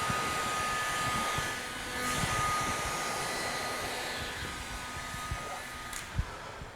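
Heat gun blowing steadily while warming vinyl wrap film during application, a continuous airy whoosh with a faint tonal whine, moderately close, with small handling knocks near the end.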